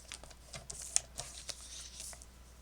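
Cardstock for a card mat being cut down to 4 by 5 1/4 inches, heard as quiet, sparse scraping and slicing strokes with a few sharp ticks, close and alone, no talking.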